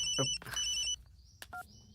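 A telephone ringing, heard as short electronic ring bursts that repeat and are broken by clicks and brief tones, close and fairly clear with no talk.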